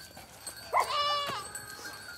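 Goats on a Himalayan farm in Uttarakhand give one clear, close bleat with a wavering tone over quiet outdoor background.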